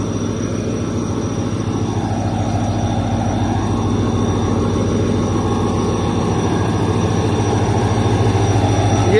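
Shah Latif Express passenger train on its inaugural run from Karachi to Mirpurkhas, a steady loud rumble of railcars and wheels on track with a low droning hum, continuous and close throughout.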